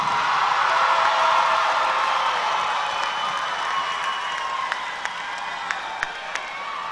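Audience applause and cheering fill a high school graduation ceremony for the class of 2021, a broad, steady wash of clapping with scattered whoops, gradually easing slightly, with a few sharp close claps standing out near the end.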